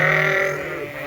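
Sheep on a farm fed hay and alfalfa let out a single loud, close bleat, a wavering nasal cry held for about a second.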